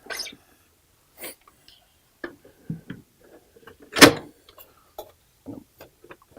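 A drawer on the right side of a classroom teaching station with a touch panel and document camera slides open with soft knocks and clicks, scattered faint handling sounds following, no talking.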